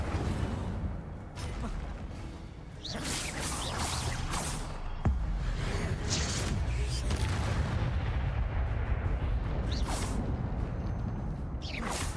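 Incendio fire spell being cast in Hogwarts Legacy, heard as a series of whooshing magical bursts and booming impacts over a constant game ambience, with several sharp hits scattered through the stretch.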